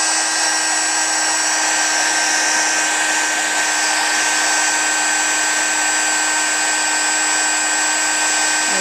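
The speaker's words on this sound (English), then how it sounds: "you don't ever want to hold your heat gun over one spot for too long" A heat gun blows steadily while heat embossing a stamped card, producing a loud, close, unbroken whine with an airy rush that holds constant throughout.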